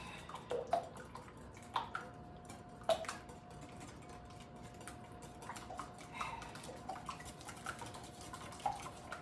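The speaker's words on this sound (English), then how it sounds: "So we are going to stir and whisk" A whisk stirs brown butter pecan bar batter in a bowl, giving soft, irregular ticking and light metallic clinks against the bowl, close and quiet, with no voices.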